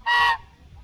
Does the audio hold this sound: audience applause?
no